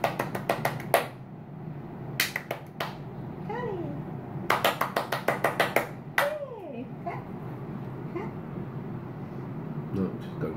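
Callie, a pet performing her new clapping trick, makes bursts of quick sharp claps in short rhythmic runs, with excited voices and chirping talk around them.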